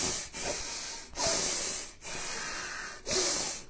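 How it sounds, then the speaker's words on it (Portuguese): Steady nasal breathing, in and out through the nose, repeating in long airy cycles of roughly a second each, close and clear with no talking. "Ou pode simplesmente ser só respirar inspirando e expirando pelo nariz."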